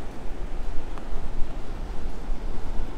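Surf rolling onto the beach at Myrtle Beach along South Ocean Boulevard's hotel row, a steady, broad low roar of breaking ocean waves with wind buffeting the microphone and no voices.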